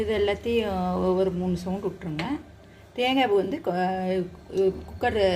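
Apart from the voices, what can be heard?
No everyday noises stand out.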